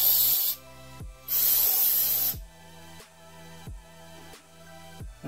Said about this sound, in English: we'll just give it a spray down with some brake clean